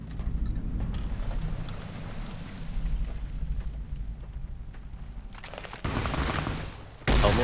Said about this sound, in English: Fine, it's a shotgun, not great at range.